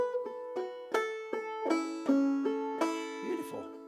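Banjo picks a phrase from Bonaparte's Retreat as a quick string of bright plucked notes with hammer-ons, some ringing longer, played close and fairly quiet without talk.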